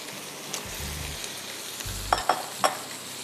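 Chicken and pasta being folded together in a dish, faint soft scraping and a low hiss followed by three quick clinks of a utensil near the end, close and quiet.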